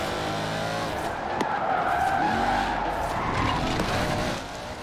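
Tires squeal in a sustained skid as a car slides in Forza Horizon 4, with a loud engine drone under the screech for several seconds before it eases off.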